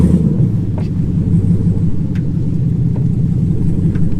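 Texas Speed shop truck with a Gen 5 engine swap driving hard, its engine droning in a steady loud low rumble held high in the revs without a shift, continuous and close throughout.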